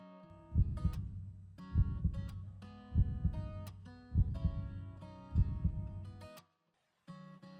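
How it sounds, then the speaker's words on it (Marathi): Heartbeat sound effect thumping in a slow, regular rhythm, five heavy low beats under a sustained musical drone, followed by a brief silence and the drone returning. "पण डोळे उघडताच तिला त्याच्या हृदयाची धडधड ऐकू आली."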